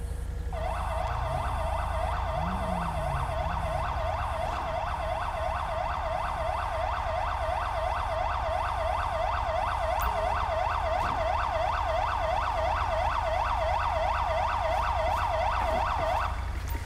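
An ambulance siren in the video game GTA 5 cycles rapidly and without a break, loud and close, over a constant low engine rumble.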